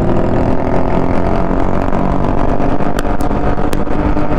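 A motorcycle engine on a group ride runs loud and close with a harsh, steady roar that swells as it accelerates.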